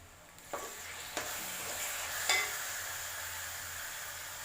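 Ginger, green chili and garlic paste pours into a hot frying pan, setting off a continuous sizzle with a few sharp spatters and light clinks of the spoon, close and steady with no talking.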